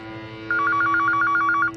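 A telephone rings with a rapid warbling electronic trill, one sustained burst loud and near against a faint steady hum, with no voices.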